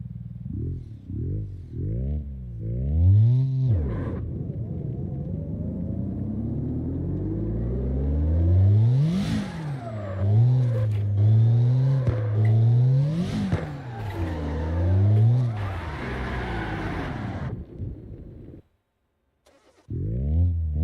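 A drift car engine in the CarX Drift Online game revs loudly and near, climbing and falling in repeated sweeps for nearly twenty seconds, then cutting out briefly before picking up again.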